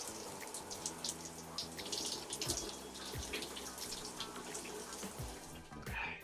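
Tap water runs steadily and splashes as a muzzleloader barrel is rinsed off after browning, a continuous gushing wash with faint clatter, close by and alone.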